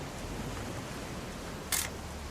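An old camera shutter in the video game What Remains of Edith Finch gives a single short, crisp click over a quiet, hissy background.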